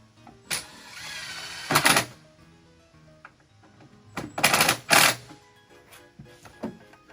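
A driver drill whirs in two short bursts, each rising to a loud grinding buzz as it drives a screw into pine wood, with quiet pauses between.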